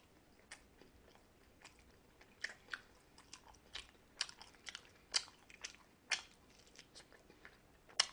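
Close, quiet chewing and biting of king dumplings, kimchi dumplings, fried dumplings and donuts, with irregular crunchy bites and soft mastication sounds over a hushed background.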